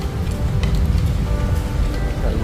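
Steady, dense rain from the tail end of a typhoon hisses without a break, with a low rumble underneath and no voices.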